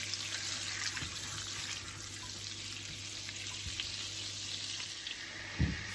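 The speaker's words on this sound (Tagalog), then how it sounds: "Melt lang po natin ang butter." Butter melting in a pan, a steady soft sizzle and bubbling hiss heard alone, with a faint clink near the end.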